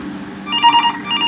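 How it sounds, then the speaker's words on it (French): A computer softphone rings for an incoming VoIP call, giving a short, clear electronic ring in two close bursts over faint background hum. "nous constatons que ça sonne instantanément"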